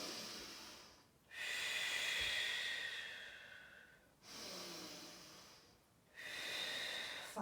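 Slow, deep nasal breathing during a yoga single-leg mobility flow, three long airy breaths close to the mic with short quiet gaps between them.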